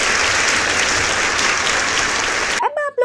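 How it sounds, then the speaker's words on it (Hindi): Loud, dense applause from an audience for two girls, Meenu and Riya, after their patriotic song in an Indian village, then it cuts off abruptly and a voice begins speaking at the very end. "तो आप लोग मीनू और रिया के लिए एक जोरदार ताली बजाएं"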